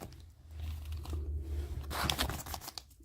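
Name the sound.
tearing open small plastic bag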